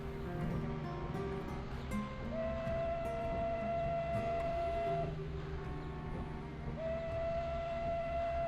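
A steam locomotive whistle in Microsoft Train Simulator sounds two long steady blasts over a continuous rumble of the moving train, loud and close.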